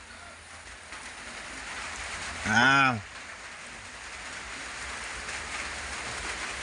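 Light rain falls steadily as a soft, even hiss throughout, with one brief spoken exclamation partway through.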